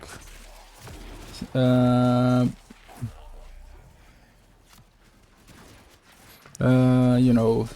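Bursts of enemy gunfire in the video game Warframe, two loud volleys separated by quieter gameplay noise.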